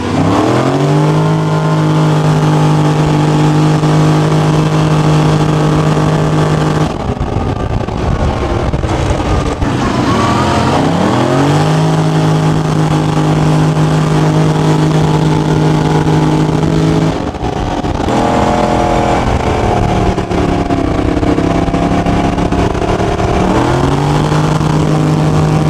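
A race car engine revs hard and accelerates again and again, loud and close. Each sustained pull breaks off as the car shifts gears, and wind noise buffets the microphone throughout.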